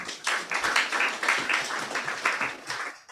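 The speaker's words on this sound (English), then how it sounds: "If you're a leader without titles, can you please clap for yourself this morning?" A crowd at a leadership colloquium applauding steadily for about three seconds, dense overlapping claps at moderate volume with no voices.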